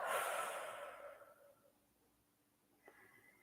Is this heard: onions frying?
no